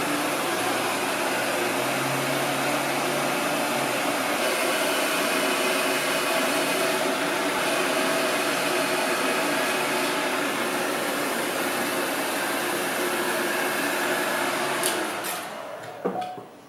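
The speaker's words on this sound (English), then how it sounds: "Let's get that heat gun on it." A heat gun blows hot air steadily onto a wheel bearing of a 2012 Kawasaki Ninja 1000 motorcycle, a loud constant whooshing roar held close for about fifteen seconds before tapering off with a few clanks at the end.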